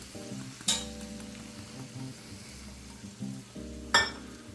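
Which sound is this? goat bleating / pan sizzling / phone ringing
pan sizzling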